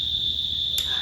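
Crickets trill in a steady, high, continuous chirp in the background, with a brief click near the end.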